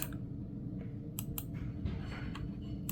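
Light clicking of an online spinner wheel as it shuffles, a few sharp ticks scattered over a steady background hiss, faint and without any talking.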